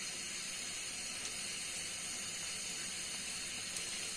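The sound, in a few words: frying Bengali oil pitha (khejur gur) in hot oil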